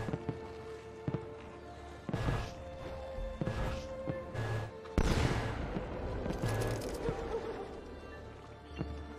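Gunfire in Assassin's Creed II: a ragged series of shots and blasts, some overlapping into dense bursts, with loud cracks scattered irregularly over a continuous noisy game soundscape and steady background tones.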